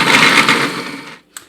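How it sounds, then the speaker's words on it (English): A food processor pulses a couple of bread slices into fine breadcrumbs, a loud whirring grind for about a second that stops abruptly, followed by a brief click. "pop the bread in and a couple of slices at a time and just pulse that until you get a nice fine bread crumb"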